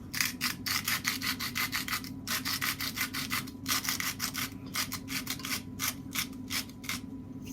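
Salt ground in a hand salt grinder, a fast run of rhythmic gritty crunching twists in short repeated bursts with brief pauses, close and steady.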